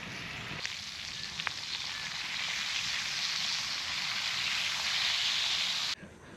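Bacon fries at a campsite in Shephard State Park, a steady loud sizzle and hiss with a few small pops, cutting off abruptly near the end.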